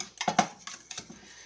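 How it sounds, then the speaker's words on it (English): Eggs whisked briefly in a bowl for a 1950s-style dinner, a few quick close metallic clinks and taps against the dish, alone without talk. "Give it a little whisk."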